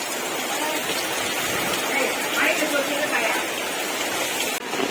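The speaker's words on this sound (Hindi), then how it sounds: "देखो के जोर वर्षा ना" Heavy monsoon rain pours steadily outside a shop, a dense, loud, continuous hiss that holds unbroken and alone throughout.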